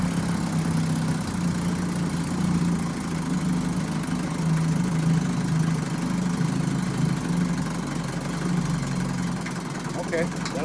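A 1957 Johnson 7.5 hp outboard motor runs in a test tank on a 16-to-1 fuel mix, a steady close-up engine drone that holds an even, unbroken level throughout.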